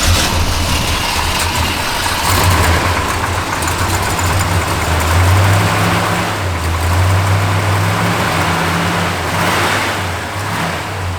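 A 1970 Dodge Super Bee V8 with an aftermarket cam idles loudly and close, its low lumpy rumble loping unevenly with slight rises in revs, and no voices over it.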